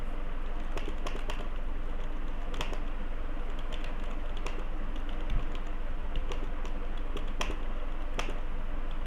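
Someone types a paragraph on a computer keyboard during an online class, a steady run of light, quick keystrokes over a constant hum, with no talking.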